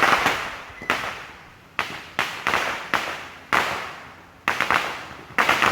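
Neighbors set off fireworks at night, a string of sharp firecracker bangs and pops arriving in irregular bursts, some close together, each trailing a brief decaying rumble, fairly distant with no talking.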